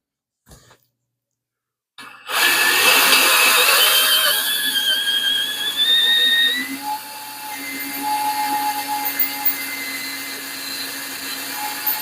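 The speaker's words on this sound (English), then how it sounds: "Now it's very important that you hold that drill as level as you possibly can" A power drill bores into a Mopar bellhousing, a steady whining grind that starts abruptly after a short silence, its pitch sliding as the bit bites, then easing into a lower, uneven drone near the microphone.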